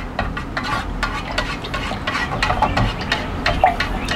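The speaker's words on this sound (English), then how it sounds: "And I'll just add the colorant. And we'll stir that colorant" A utensil stirs eucalyptus mint colorant into melted wax, making steady, close scraping and swishing strokes in an even rhythm with no talking.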